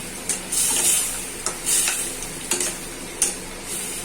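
Ginger-garlic-onion paste frying with chili, coriander, turmeric and salt in a pan, a steady sizzle punctuated by regular sharp stirring scrapes, each followed by a brighter hiss.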